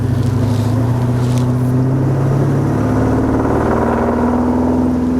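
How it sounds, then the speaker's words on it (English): Square-body truck fitted with a Borla exhaust revs steadily, giving a deep droning rumble whose pitch shifts as the engine rises and settles, close and loud with no talk over it. "Man, those Borlas sound good."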